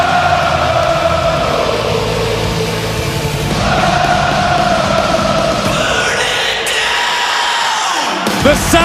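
A 16,000-strong arena crowd in the wrestling video game WR3D 2K25 roars and cheers continuously at an Elimination Chamber show, a dense wall of voices that swells and then thins out near the end.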